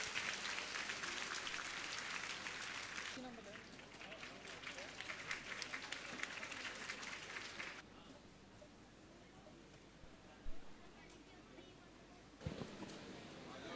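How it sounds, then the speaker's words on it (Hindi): Applause from a student audience at a motivational session in Kota, dense and sustained for the first several seconds, then fading into a quieter room murmur with a few scattered claps and knocks. "एक बार फिर से जोरदार तालियां बजा दीजिए आदरणीय जय किशोर जी के लिए"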